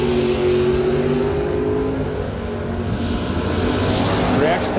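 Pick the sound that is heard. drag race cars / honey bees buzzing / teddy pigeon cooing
drag race cars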